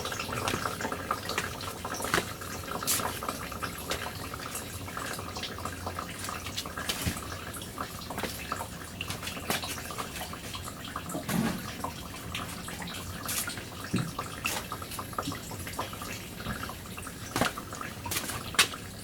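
Gasoline pours from a new-style gas can spout during a fuel repair on a Corvair, a continuous gurgling liquid stream with small splashes, steady and close throughout.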